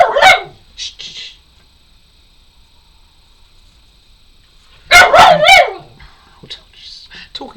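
A dog barks in two bursts, a few sharp yips at the start and a louder cluster of barks near the end, close by with quiet pauses between.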